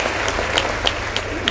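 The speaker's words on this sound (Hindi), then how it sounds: "इस बात पर एक बार जोरदार तालियां" An audience at a Hindi poetry gathering applauds loudly. A brief, dense burst of clapping runs steadily for under two seconds with no voices over it.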